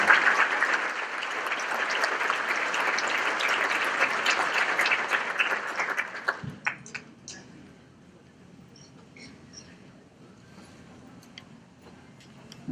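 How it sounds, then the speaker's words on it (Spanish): A congregation at a Hispanic Catholic Charismatic Renewal gathering applauds in a dense, loud wash of clapping for about six seconds, then it stops abruptly, leaving quiet room sound with a few scattered claps. "Le damos un fuerte aplauso al Señor"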